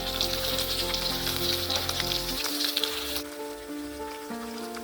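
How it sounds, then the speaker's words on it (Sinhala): Cassava slices deep-fry in hot oil with a dense, steady sizzle and crackle. A low hum underneath drops away partway through while the frying carries on. "මේ විදියට ටිකෙන් ටික මඤ්ඤොක්ක පෙති ටික එකතු කරගෙන රන්නත් පැයක් වෙනතුරු අපි පැද ගන්න"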